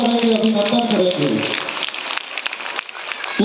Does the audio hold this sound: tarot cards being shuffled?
no